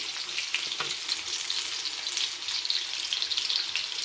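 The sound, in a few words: pastel pastries frying in oil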